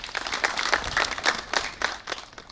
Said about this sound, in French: Elle reçoit les applaudissements du ministre de la Santé